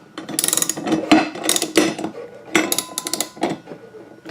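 Socket wrench tightening the blade bolt on a lawn mower during blade replacement, giving a series of close, crisp metallic ratcheting clicks in short bursts with brief pauses between them.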